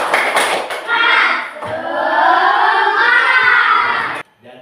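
Primary-school pupils in a fifth-grade classroom perform the tepuk semangat clapping chant, a loud, busy burst of massed clapping and shouted chanting voices that runs for about four seconds before cutting off abruptly.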